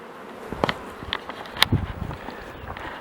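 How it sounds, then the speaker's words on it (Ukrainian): Honey bees buzz faintly around hives against a soft background, with brief louder passes as insects fly close and several light taps. "Ну а там бджоли гарненько гудуть."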